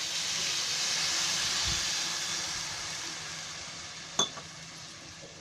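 Water poured into a hot pan of fenugreek seed curry raises a steady, loud steaming hiss that fills the air, easing slightly over time, with a sharp clink near the end.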